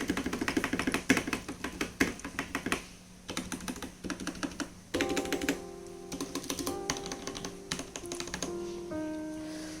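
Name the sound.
mechanical keyboard stabilizers rattling while typing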